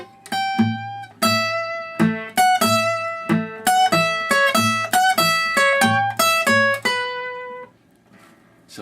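Acoustic blues guitar plays a passage of a song: bouncing bass notes pinched with bright treble notes in a lively, uneven rhythm, close and clear, with the notes fading out near the end.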